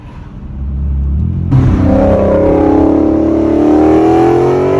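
A Dodge Charger 392 Scat Pack with a 3-inch MBRP exhaust revs up from a low idle rumble into a loud, sustained, rising roar, heard close and with no talking.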